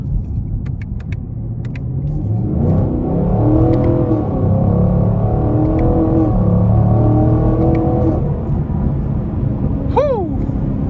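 A 2020 Chevy Camaro LT1 with a 6.2-liter V8 accelerates hard in sport mode, its loud rising engine roar climbing through gears and holding steady close by, with a brief whoop near the end.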